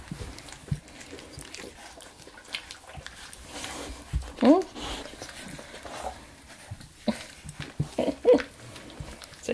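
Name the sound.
boxer puppy growling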